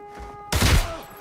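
A short, loud burst of gunfire breaks out during a gunfight in the video game Arena Breakout, following a quiet moment.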